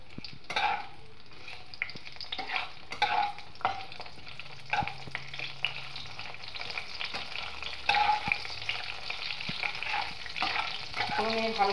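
Whole spices tempering in hot oil for a Mughlai chicken, sizzling steadily and close by with scattered scraping and stirring knocks throughout, no voices.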